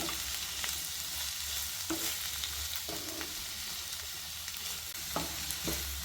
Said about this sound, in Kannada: ಕ್ಯಾರೆಟ್ ಎಲ್ಲದನ್ನು ಹಾಕ್ಕೊಂಡು ಲೈಟಾಗಿ ಮೀಡಿಯಮ್ ಇಟ್ಕೊಂಡು ಫ್ರೈ ಮಾಡ್ಕೊಳ್ಳಿ